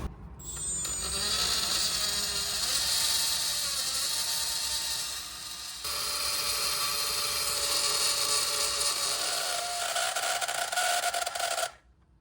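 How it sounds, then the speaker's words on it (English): A grinder cuts steadily through a heat-seized bolt head on a Honda Vamos turbo, a loud continuous high whine with a brief dip midway before stopping near the end. "So I just have to grind the head of it off with something like this."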